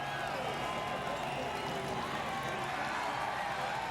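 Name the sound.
race crowd cheering for winner Carl Edwards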